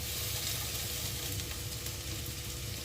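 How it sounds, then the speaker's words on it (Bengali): Ground ginger, cumin and green chilli paste frying in a spoonful of oil, giving a steady close sizzle with a soft crackling hiss throughout and no voices. "আর 1 চামচ তেল দিয়ে ভালোভাবে মশলাটা ভেজে নিচ্ছি।"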